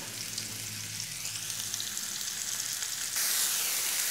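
Washed, sliced mushrooms go into a hot pan and sizzle steadily up close. The frying hiss swells louder near the end, with light stirring and no voices.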